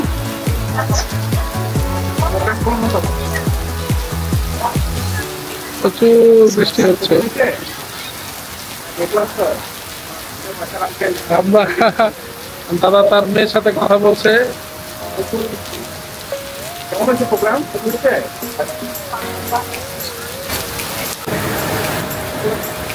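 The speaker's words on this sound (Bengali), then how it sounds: "এত বৃষ্টি হচ্ছে এখানে, মুষলধারে বৃষ্টি হচ্ছে।" Heavy downpour in front of a hotel in Singapore's Marina Bay, a steady broadband wash of rain running throughout with people talking over it.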